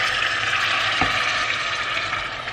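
Meat frying with a green chili in a pan as a little water is splashed in, giving a steady loud sizzle with a brief splash partway through.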